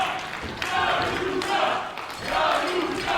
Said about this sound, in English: Crowd solidly behind the youngster.